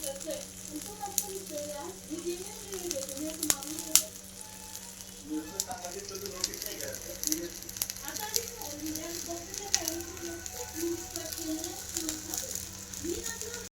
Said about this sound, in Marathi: मस्त उकळी आली बघा याला.